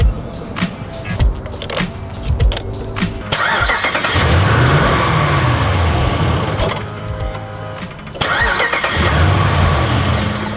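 An auction car's engine cranks with rhythmic starter whirring, catches briefly with a roar, then dies, and the pattern of cranking and short running repeats, loud and near.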